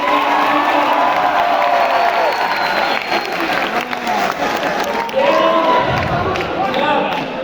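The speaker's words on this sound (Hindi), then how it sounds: "आप जरा अच्छी ताली बजा के मुझे वेलकम कर देना" Hall audience at a young entrepreneurship summit at a university applauding and cheering loudly, a dense continuous wash of clapping and shouts with some voices mixed in, sustained throughout.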